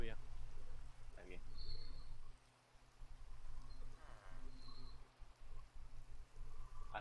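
Rain falls in a steady, soft hiss that stays fairly faint throughout, with people talking quietly in Spanish over it.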